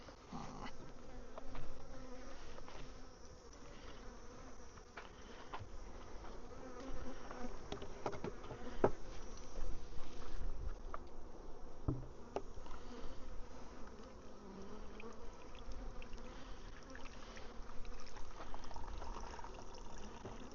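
Honey bees buzz steadily around a hive, a dense, continuous drone of many insects close by, fairly quiet and with no voices.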